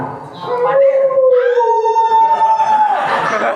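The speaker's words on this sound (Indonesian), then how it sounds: "Suara serigala adalah" A long, rising and falling howl like a wolf, loud and close, holding a steady pitch before tapering off.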